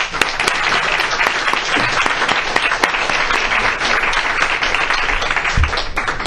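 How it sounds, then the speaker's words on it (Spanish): An audience claps at a book presentation for the novel El secreto de Vesalio, a loud, dense and continuous burst of applause with crisp individual claps standing out. "Jordi, un aplauso."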